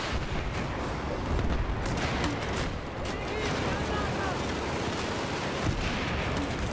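Rapid, heavy video game gunfire and booming blasts pour out continuously, loud and close, forming a dense battle din with no pauses.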